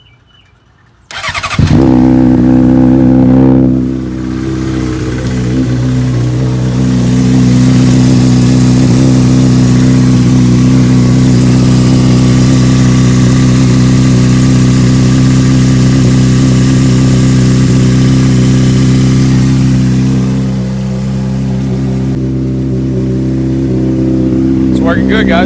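Honda CBR600RR motorcycle cold-starting with a sudden catch, then a loud, steady close idle with brief revs before settling.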